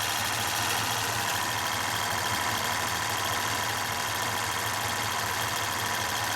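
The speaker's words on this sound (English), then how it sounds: "I don't like the sound of the compressor either." A car's A/C compressor runs steadily with a faint, uneven rough edge, under a constant engine idle hum, during an air-conditioning repair.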